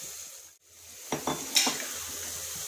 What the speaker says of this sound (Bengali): এবার আমি যে মাংসটা ভেজে নিয়েছি মুরগি,